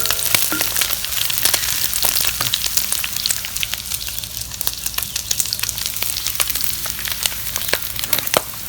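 Liver frying on a sac griddle at a village breakfast, sizzling and spattering steadily and loudly throughout, with scattered sharp pops and crackles close by.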